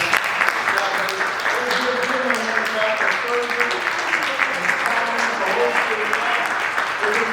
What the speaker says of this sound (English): give yourselves a hand clap for coming out